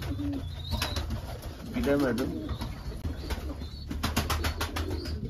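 Soft cooing of a young pigeon close by over a low rumble, with a person speaking briefly in Turkish and some rustling and flapping.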